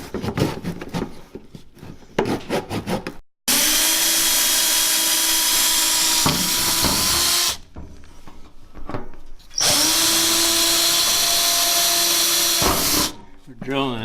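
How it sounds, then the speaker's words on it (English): A power drill bores a 1/8-inch pilot hole for a rear diffuser on a Scion FR-S, in two long, loud, steady bursts after some brief rattling, pausing between them; close and harsh. "Drilling an 1/8 of an inch hole first before we drill a quarter"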